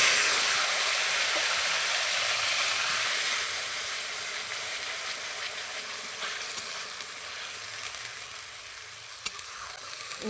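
Onion paste hitting hot oil tempered with garam masala and salt, for a Bengali katla fish rezala, gives a steady broadband sizzle that eases slightly over time, close and continuous with no talking.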